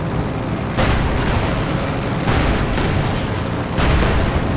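Repeated booms and bursts of gunfire from a Company of Heroes 2 battle, with mortar fire in a dense, continuous wartime din; three heavier blasts stand out over a constant rumble.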